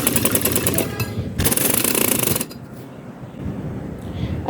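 Sewing machine stitching a straight seam in trouser fabric, two loud rapid mechanical runs of clattering stitches separated by a short pause, then quieter handling noise.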